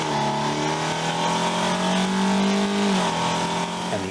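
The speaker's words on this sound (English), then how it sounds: "you get the signature growl of an all-motor 4-cylinder engine with the forward thrust of a big V8" A 2024 Mazda CX-90 PHEV with a four-cylinder engine and electric motor growls steadily while accelerating, a sustained loud engine drone from inside the cabin with no talking.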